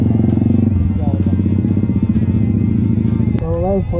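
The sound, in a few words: motorcycle riding off-road on a slippery jungle trail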